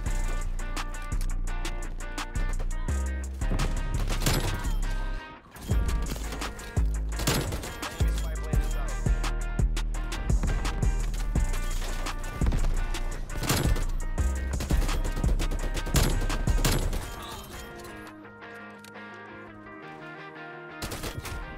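Rapid TEC-9 machine-pistol fire in Black Ops Cold War hardcore mode, loud close bursts repeating in quick clusters over a continuous musical backdrop, with a short pause midway and the shooting tapering off near the end.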